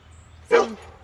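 A dog just back from the groomer and vet gives one short, close bark outdoors on a hot day, standing out over a low steady background hum.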